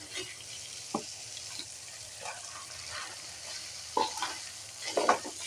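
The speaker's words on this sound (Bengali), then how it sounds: "আলুটাকে এইভাবে নাড়াচাড়া করে আমি খানিক্ষণ ভেজে নেব" Boiled potatoes fry in a pan with a steady low sizzle while a spatula stirs them, giving scraping strokes near one and four seconds and a louder clatter toward the end.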